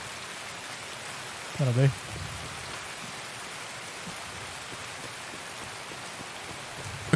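Steady rain falls in the video game Escape From Tarkov as an even, continuous hiss, and a voice speaks briefly over it.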